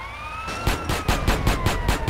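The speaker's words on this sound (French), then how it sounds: "j'aimais pas trop le bruit de ta sirène" A police car siren wails in the GTA video game on Switch, a loud close electronic wail with rapid pulsing bursts over a rising steady tone, punctuated by sharp repeated pops, with no voices.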